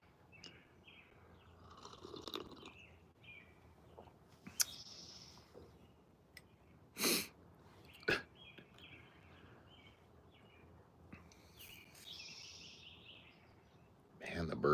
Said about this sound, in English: Man, the birds are just singing today.